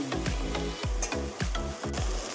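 Chopped onions frying in a pan for a chicken porutu, with a spoon stirring in repeated strokes about every half second over a steady close sizzle, no voices.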